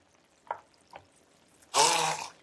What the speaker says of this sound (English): Again, take our immersion blender.